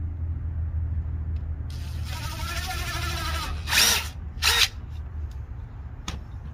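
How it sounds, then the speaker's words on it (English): A power drill whirs briefly, then two short, louder bursts of drilling pilot holes in pergola wood stand out over a low background hum. "I'm going to pre-drill the holes"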